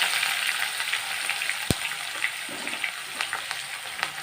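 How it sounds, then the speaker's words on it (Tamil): Onions fry in hot oil with cinnamon and fennel seeds while a chicken 65 and prawn biryani are being cooked. A steady, soft sizzle runs throughout, with scattered small crackles and one sharp pop near the middle. "ஆயில் காஞ்சதும் இந்த பட்டை, சோம்பு எல்லாத்தையும் போட்டுக்கலாம். அதுக்கு வெங்காயம் போட்டுக்கலாம்"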